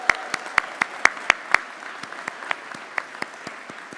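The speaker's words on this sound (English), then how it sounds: "Let's give them a round of applause." Sparse, scattered claps for graduates at a sports product management commencement ceremony in Portland, a few distinct hand claps spread unevenly across the moment rather than a full ovation.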